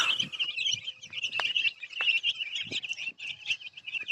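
Continuous high-pitched peeping of many small chicks, a dense overlapping chorus, with a few soft lower clucks and thumps underneath.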